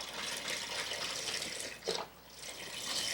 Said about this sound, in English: And to that, I'm going to add just some beef broth.